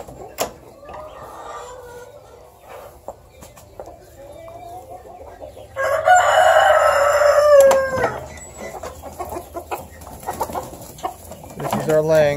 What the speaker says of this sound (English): Now I'll show you our laying hens real quick.